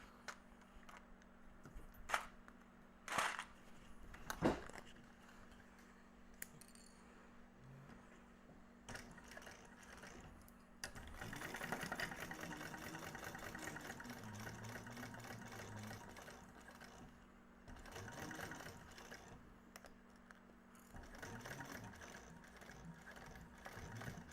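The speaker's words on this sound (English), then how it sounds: "we are going to sew down here at our seam allowance on both sides" A sewing machine stitches a seam on a fabric Tumbleweed bag, whirring in a steady run for several seconds after a few sharp clicks and knocks, heard up close and fairly quietly, with no talking.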